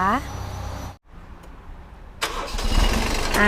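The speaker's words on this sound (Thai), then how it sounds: "รถสตาร์ทติดง่ายนะคะ" A Kubota B2140S tractor's engine cranks and catches after a short pause, then settles into a rough, close idle. Someone talks over the start.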